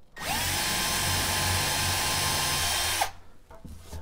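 A power drill whirs loudly and steadily for about three seconds boring a small pilot hole into maple wood, then winds down abruptly, followed by a few faint clunks.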